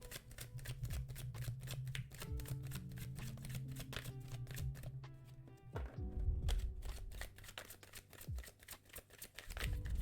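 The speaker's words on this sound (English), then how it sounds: "Just did a riffle shuffle" Tarot cards are riffle shuffled, bent and grabbed from both halves, giving rapid dense fluttering clicks with a short cascading burst mid-way, quiet and close with no speech.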